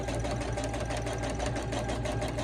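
A sewing machine runs continuously while quilting fabric, a steady fast mechanical whir with rapid stitching rhythm, close and unbroken.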